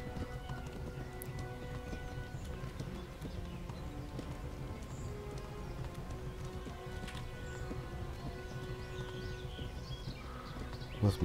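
Horse hooves clip-clopping in the video game Kingdom Come: Deliverance, a steady, faint trot running continuously under quiet ambient game sound.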